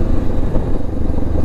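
Deep, throaty exhaust of a motorcycle fitted with new parts, rumbling loudly and steadily up close, a gritty low burble with no voices.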